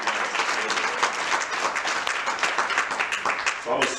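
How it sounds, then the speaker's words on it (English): An audience at a spoken word poetry event applauds steadily, a dense and fairly loud wash of clapping that holds throughout and begins to thin at the end. "Let's give her one more round of applause."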